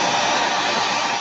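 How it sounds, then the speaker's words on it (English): A handheld hair dryer blows on painted flowers to dry them, a loud, steady, close whoosh with no breaks. "I'm just going to use my hair dryer to get it dry"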